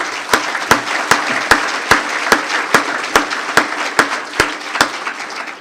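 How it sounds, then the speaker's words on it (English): During a mayor's State of the City address in Torrance, an audience applauds steadily while sharp rhythmic claps ring out at a regular beat above the crowd noise. "Let's give them a round of applause."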